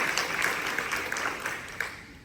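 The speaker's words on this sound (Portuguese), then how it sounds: "Então eu queria que vocês aplaudissem esse Jesus, esse Deus que se entregou por mim e por você." A church congregation at a Catholic prayer group gathering applauds, a steady wash of many hands clapping together, even and sustained throughout.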